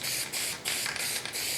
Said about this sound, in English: a little bit of spray tack for the test print.